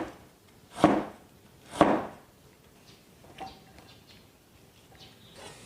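A kitchen knife slices through soaked winter bamboo shoots on a board: two sharp, loud cuts close together, followed by several softer, lighter taps spaced out afterward.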